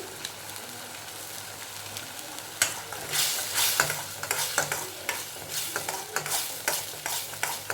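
Chili and coriander powder being stirred in a pan over a low gas flame, with a soft sizzle under repeated scraping strokes of the spoon that grow busier partway through, close and fairly quiet.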